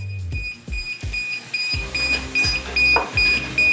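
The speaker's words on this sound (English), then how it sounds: "It might be beeping because there's things in the vicinity of the aircraft, maybe." A DJI Mavic Air drone sounds a warning alert, a series of sharp, loud, regularly repeating electronic beeps close to the microphone.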